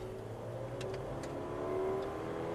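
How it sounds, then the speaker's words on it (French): A car accelerates out of a corner on the Dreux racing circuit, its engine holding a steady, moderately loud rising drone with a faint background hiss. "On élargit et on accélère."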